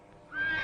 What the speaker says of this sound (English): Quiet that horse, pronto.